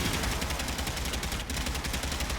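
Rapid sustained weapon fire from a secondary fire mode in Warframe, Ember Prime and Mutalist Quanta gameplay, a dense loud continuous barrage of shots with no speech.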